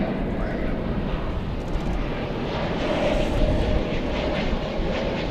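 A Spirit Airlines airplane at DFW Airport produces a steady, broad jet engine roar at moderate distance, heard continuously.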